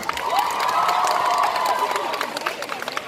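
Audience at a cosplay contest claps and cheers, with shouts and whoops rising over the applause, then the cheering fades into scattered clapping.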